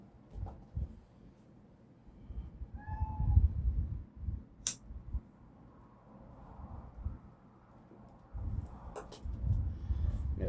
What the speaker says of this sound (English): let me let my kitty out.